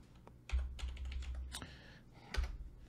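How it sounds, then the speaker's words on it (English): Fingers tap at a computer keyboard, a short run of soft, quick keystrokes heard close but faint in a quiet room. "If I can type correctly."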